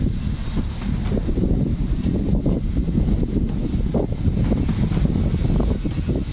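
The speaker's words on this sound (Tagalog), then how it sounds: "Ang sarap ng hangin" Wind rushes continuously into the microphone outdoors, a loud low rumbling buffet with gusty pulses and no talking.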